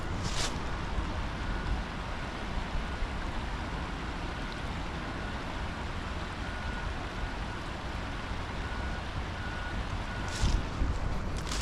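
Reversing alarms on machinery at a working quarry beep in a steady, evenly spaced series, faint and distant beneath a constant wash of wind-like outdoor noise.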